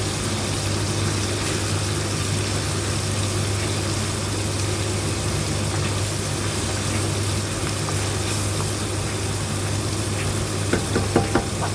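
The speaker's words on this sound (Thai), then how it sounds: "เราจะใส่ปลาลงไปผัดนะคะ ผัดปลาให้หอมเลยจ้า" Fermented fish (pla ra) stir-fried in a hot pan: a steady, close, loud sizzle over a low hum, with a few scraping stirs near the end and no voices.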